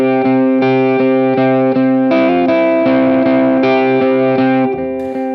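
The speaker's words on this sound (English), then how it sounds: "turn any big reverbs off and it will punch through just a little more and sound like this." Electric guitar on the middle pickup with delay and big reverbs off plays a worship song part, punchy repeated notes with short echo repeats, loud and upfront with no talk.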